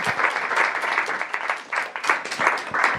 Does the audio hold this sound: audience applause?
yes